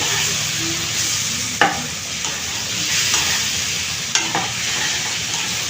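Papaya frying in a pan, a steady close sizzle with a couple of sharp clinks from stirring or a lid, and nobody speaking.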